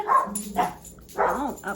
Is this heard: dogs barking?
yes